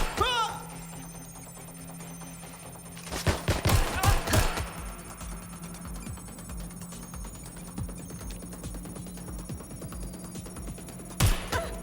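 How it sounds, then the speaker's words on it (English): Gunfire erupts during a Watch Dogs Legion firefight, with a dense burst of shots clustered in the middle and one more sharp crack near the end, all over steady game ambience. "They're shooting at us."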